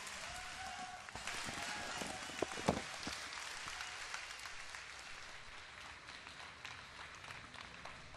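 An audience at BlizzCon 2010 claps and applauds continuously during a live esports match, a broad wash of sound with a few sharper claps standing out, fairly distant and even throughout.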